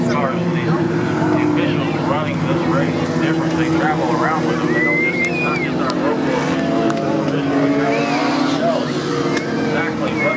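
Legends race cars at Indiana's Sportsdrome Speedway, engines droning steadily with occasional rising passes, heard through crowd babble and a voice over a loudspeaker.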